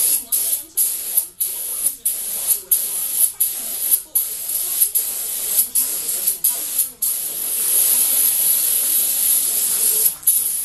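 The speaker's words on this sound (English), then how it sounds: "just spray a little bit on and take an air compressing little nozzle" Repeated short hissing bursts from a spray can or aerosol cleaner aimed at an engine part during a 420A performance engine build, pulsing rhythmically, then merging into a steadier continuous hiss near the end.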